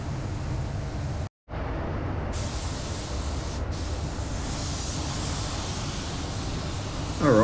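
A spray gun hisses in a steady, loud stream while painting a Nissan Navara panel during accident repair, cutting out once briefly before resuming its continuous spray.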